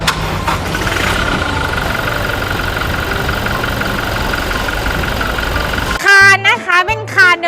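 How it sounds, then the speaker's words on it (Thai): A 2023 Toyota Hilux Revo 2.4 Mid Prerunner Double Cab diesel idles with a steady, loud, slightly knocking rumble for about six seconds before a voice takes over at the end. "เดี๋ยวเรา ไปฟังเสียงเครื่องยนต์กัน"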